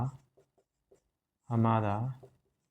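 Short, soft taps of writing during a math lesson sound in a quiet room, followed by a teacher's voice speaking.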